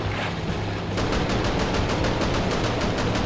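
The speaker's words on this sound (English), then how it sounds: "there's some enemies or something and shooting guns at us" Rapid bursts of gunfire from enemies in the video game Junker Bot, a dense rattling volley that fills the clip at a steady, loud level with no talk over it.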